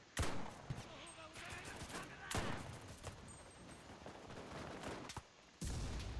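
Gunfire in the World War II shooter Enlisted, with repeated loud rifle and machine-gun shots at irregular intervals over distant battle noise, nearer blasts punctuating the background.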